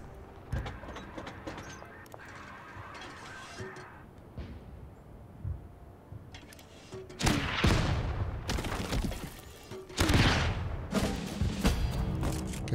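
Mortar and artillery fire in the strategy game Total Tank General during a Soviet counter-offensive near Moscow: scattered thumps, then two heavy booming impacts with rumbling tails, mid-distance and fairly loud.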